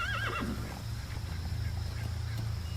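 A horse in the video game Metal Gear Solid V: The Phantom Pain whinnies with a wavering cry at the start, then steady hoofbeats and a low rumble continue throughout at moderate volume.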